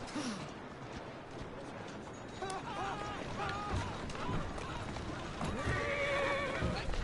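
A horse in Assassin's Creed Syndicate, pulling a carriage, whinnies loudly over steady clip-clopping hooves and a rolling background rumble, with a second shorter neigh near the end.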